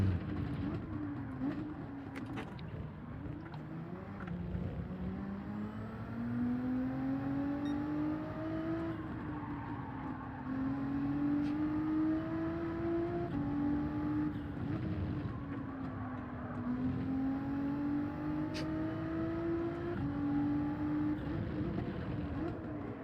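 A Nissan GT-R in Gran Turismo 7 drives laps, its engine note rising and falling steadily through gear changes and acceleration, with a few faint clicks over the continuous hum.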